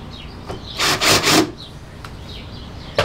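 A countersink bit cuts into a screw hole in a wooden 2x4 for a rustic flag, giving two close, short, rasping whirs back to back, with faint scrapes and taps around them.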